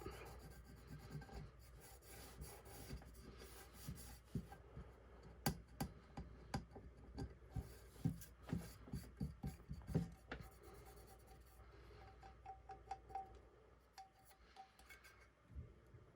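Silver leaf rubbed onto a glitter tumbler, a quiet, close scraping and rubbing made of irregular strokes and small taps that cluster densely in the middle and thin out toward the end.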